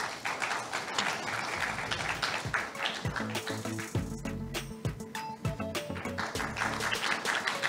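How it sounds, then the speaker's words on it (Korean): Audience applause at a Korean industrial safety and health seminar, a dense spread of clapping filling the room throughout, with scattered sharper claps and some faint background murmur. "큰 박수 부탁드리겠습니다."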